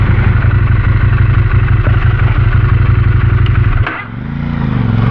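A loud, close motorcycle engine revs hard with a rapid throbbing pulse after a missed gear change, then drops suddenly and climbs back up, with no talk.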